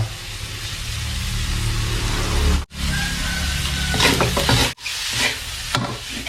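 Pad kaprao stir-fried in a pan over medium heat, a steady loud sizzle with scraping spatula strokes against the metal, broken by two brief silent gaps.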